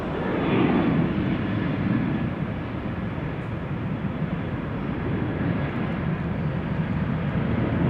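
A narrow-body airliner taking off at Amsterdam Schiphol Airport, heard as a steady, distant jet roar that holds evenly and swells slightly, a broad rumbling wash with no voices.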